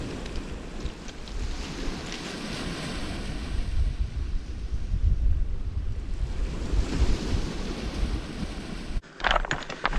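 Sea water surges in at the shore in a continuous roar of surf mixed with gusting wind noise, loud and close, with a brief bump near the end.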